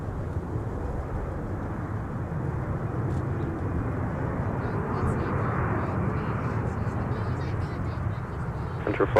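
A Frontier Airbus A320neo jet arriving at MSP airport, a steady low rumbling roar heard from a distance across the whole stretch, with faint radio chatter over it.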